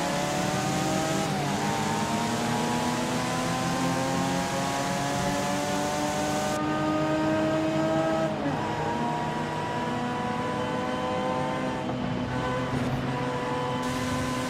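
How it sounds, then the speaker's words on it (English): A race car engine in Forza Horizon 5 revs hard through rising gear pulls, heard from inside the cockpit, with loud, steady acceleration whines that dip at each shift over about fourteen seconds. "Sounds like a race car, man. Especially from the inside."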